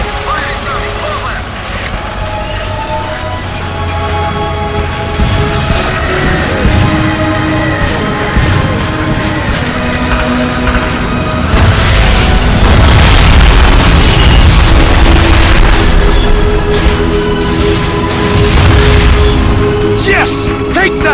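An artillery barrage strikes an armored column in Call of Duty: Finest Hour, with heavy booming explosions rumbling and crackling under loud game music and battlefield noise, building in intensity toward the middle and end.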